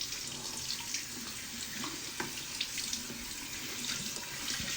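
A tap runs steadily into a sink while someone rinses their face, a continuous close splashing flow with small irregular splatters, no talk.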